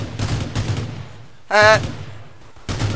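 Gunshots in the battle royale game Rules of Survival, three sharp bursts spaced about a second apart, with a short spoken interjection between them.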